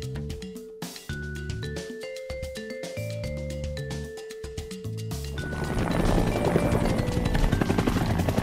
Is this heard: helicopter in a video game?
yes